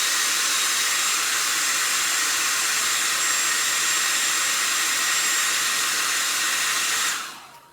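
A hair dryer blows steadily up close, drying paint on a wine bottle being painted as a scarecrow, a loud continuous whooshing hiss that holds for about seven seconds and then quickly cuts off.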